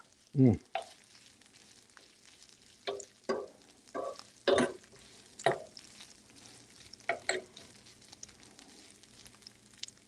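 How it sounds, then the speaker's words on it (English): Chorizo cooks in a pan on a stovetop, a quiet low sizzle punctuated by a series of loud, separate scraping and stirring knocks spaced a second or so apart, close up. "So our chorizo is cooking up nicely."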